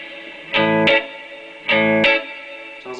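Electric guitar on the neck pickup run through an AboveGroundFX effects pedal, with two sustained, heavily processed chords that ring out and stop, then a third begins.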